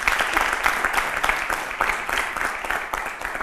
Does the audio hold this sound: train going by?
no